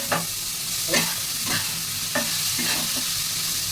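Pumpkin slices frying in a pan give a steady hissing sizzle, broken every half second or so by soft stirring or turning scrapes, close and alone without speech.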